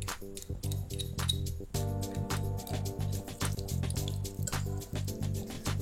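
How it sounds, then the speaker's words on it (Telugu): Ghee poured into a pan for palav gives soft liquid drips and small splashes in a quick, irregular series over a low steady hum. "ఇప్పుడు ఇందులో నెయ్యి వేసేసుకుందాం."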